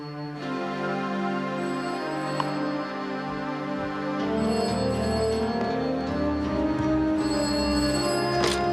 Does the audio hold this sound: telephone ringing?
yes